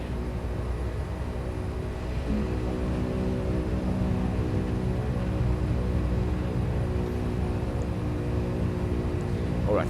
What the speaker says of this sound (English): And we are rolling, so we can now slide the taxi to the runway.